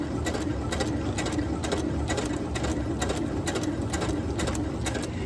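A sewing machine runs steadily through kite fabric, its fast, even stitching rattle close and continuous with no pauses.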